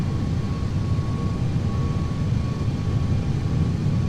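Airbus A330 airliner descending to land in the Prepar3D flight simulator, a steady low engine rumble and airflow roar holding even throughout, with a faint thin tone running through it.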